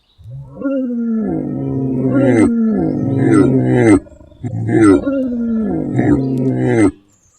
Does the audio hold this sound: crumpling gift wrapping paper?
no